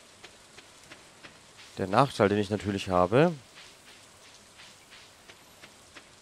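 Soft, steady rainfall in the farming video game Stardew Valley forms a faint hiss throughout, while someone talks briefly over it in the middle.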